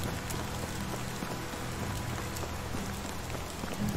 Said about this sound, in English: Such a rainy day.